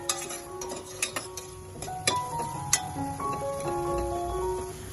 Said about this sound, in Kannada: ಉಪ್ಪು ಸೇರಿಸ್ಕೊಂಡು ಸ್ವಲ್ಪ ಹೊತ್ತು ಫ್ರೈ ಮಾಡ್ಕೊಳ್ಳೋಣ